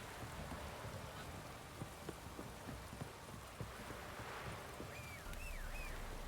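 Rain pours down during a downpour in the video game The Witcher 3, a dense steady hiss of falling rain with scattered drop taps and a faint whine near the end.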